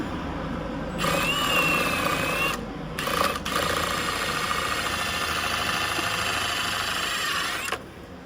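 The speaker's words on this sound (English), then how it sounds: "So I'm just going to drill a pilot hole" A power drill whirs steadily in bursts while drilling a pilot hole during a C8 Corvette transmission fluid change, a short run, a brief pause, then a longer continuous spin before cutting off, close by.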